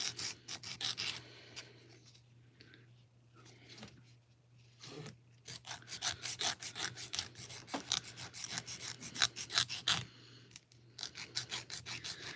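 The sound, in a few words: filing a nail with a nail file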